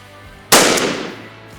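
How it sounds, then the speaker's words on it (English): A 20 gauge shotgun firing a 3-inch number 5 lead shot turkey load at a 40-yard pattern target outdoors: one loud, sharp blast with a quick decaying tail, heard alone. "We're gonna shoot a number 9 first, then we're gonna shoot a lead shot, number 5, and this is at 40 yards."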